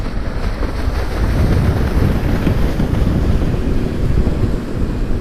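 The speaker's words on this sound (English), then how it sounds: "look at this guy blazing with his motorboat" A motorboat races past on open water, its engine a steady, loud low rumble mixed with heavy wind buffeting and the wash of the water, with no voices.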